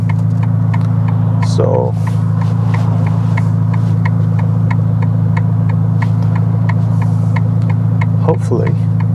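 A Ferrari Roma in sport mode crawling through traffic, its engine a steady low droning rumble heard from inside the cabin, loud and constant, with a brief spoken word over it.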